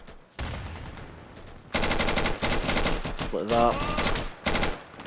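A machine gun in the video game Insurgency fires short rapid bursts, loud and close, separated by brief pauses, with a voice speaking between them.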